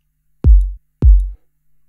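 Two deep, booming kick drum hits from a modular-patch oscillator resynthesizing a sample, each a quick click attack falling into a long low sub-bass decay, clean and alone with silence between.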